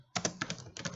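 Computer keyboard typing a command, several quick clustered keystrokes in two bursts, close and clear with no talking.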